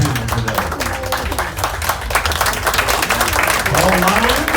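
A crowd claps for a panel of gentlemen at a gathering, dense and sustained applause with sharper individual claps standing out, and a voice rising over the clatter near the end.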